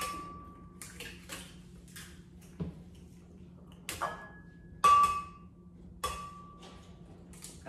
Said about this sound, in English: just cracking whole eggs into the blender